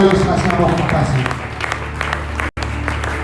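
Church congregation at a Sunday service applauding for the Lord: sustained, loud clapping from many hands close by, a little heavier at first, with voices mixed in and a momentary cut near the end.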